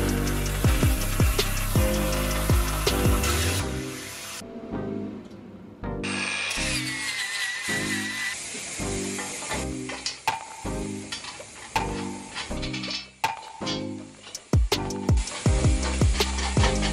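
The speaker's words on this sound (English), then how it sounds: "So let's get these cut out and weld it in where they're supposed to be." Metal parts for a welding jig being cut with a power tool and then welded, heard as loud, harsh grinding and sizzling bursts in an irregular rhythm with brief pauses between cuts, no talking.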